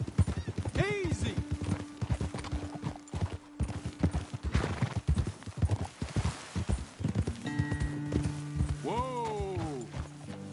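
Horses trotting in Red Dead Redemption 2, with rhythmic clip-clop hoofbeats on the ground and a couple of neighs and whinnies. Riders call out over the hooves.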